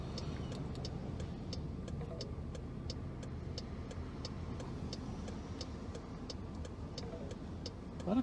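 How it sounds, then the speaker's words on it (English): Steady road traffic heard from a patrol vehicle, a continuous wash of passing cars with a regular ticking like a turn signal clicking throughout. "A lot of cars out."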